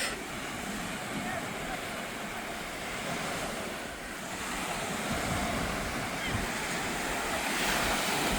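Steady sea surf rolls onto the beach in Odesa, a continuous broad wash of breaking waves with wind buffeting the microphone throughout, close and fairly loud.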